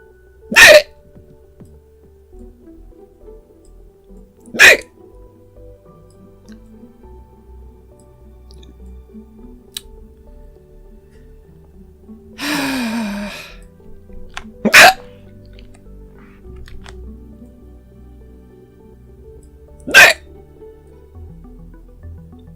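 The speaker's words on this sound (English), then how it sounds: "That was a weird hiccup." A person drawing hiccups repeatedly, with sharp, isolated hiccups spaced several seconds apart and a longer, rougher hiccup midway, all set against a quiet room with faint background hum.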